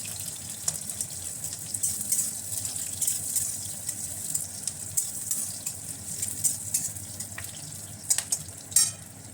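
Chopped onions frying in hot oil in a wok, a close, steady sizzle and crackle with scattered sharper pops and stirring clinks, no talking.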